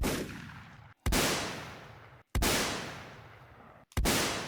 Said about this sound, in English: See, you got the bang and you got the echo of that